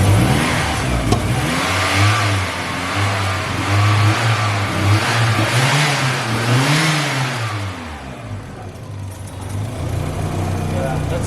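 The engine of a VW Golf MK1 cabriolet, with its ignition not yet set and running slightly off, runs close by with a steady mid-pitched drone and a few gentle rises in revs. A person talks over it.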